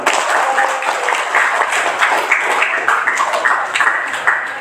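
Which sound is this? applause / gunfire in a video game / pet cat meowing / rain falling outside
applause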